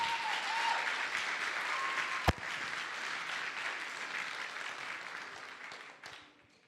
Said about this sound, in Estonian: Teeme veel ühe aplausi ja anname sõna žüriile.